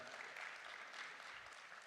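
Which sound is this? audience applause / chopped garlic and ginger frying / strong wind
audience applause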